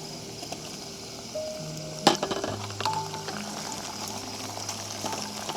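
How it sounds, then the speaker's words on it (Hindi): Tomatoes stirred into onions frying in a camping pot outdoors: a continuous sizzle with scraping stirs and one sharp metallic clank of utensil against pot midway, no voices. "मैं टमाटर भी मिक्स कर रहा हूँ।"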